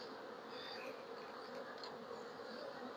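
Bees humming inside a hive box, their steady, faint, dense buzz filling the lower super without a break.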